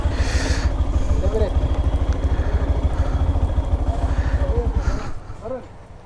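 A motorcycle idling after being parked at night in rainy weather, a steady close low throbbing putter that drops away near the end, with a voice briefly heard over it.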